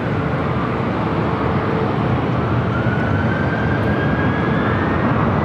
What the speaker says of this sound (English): Emirates A380 Super heading up here to the north side.